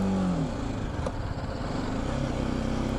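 A motorcycle engine revved in first gear on a public road by a nervous rider, a steady, close, throaty drone with rising and falling harmonics throughout.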